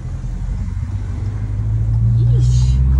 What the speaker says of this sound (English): Just start the car again. I know, rev it.